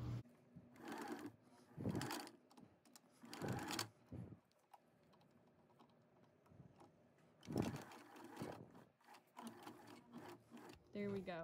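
A sewing machine runs a zigzag stitch on a child's fabric mask in short, close bursts of rapid needle clatter separated by pauses and quiet handling.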